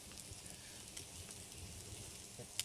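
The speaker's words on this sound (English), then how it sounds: "It's sizzling away nicely." Faint, steady sizzling of chicken on a grill, a continuous soft crackle and hiss with no one talking.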